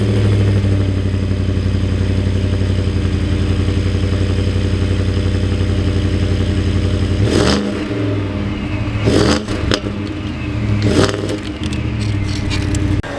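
A 2026 Ford F-150 FP700S pickup truck's exhaust burbles at a deep, steady idle, then several sharp revs roar up and drop back, loud and close.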